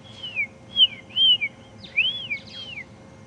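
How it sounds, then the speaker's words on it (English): Magpie shrikes singing a lilting chorus of clear, rising and falling whistled notes, about six phrases in quick succession over a soft low background hum on a safari drive. "lovely lilting chorus of the magpie shrike"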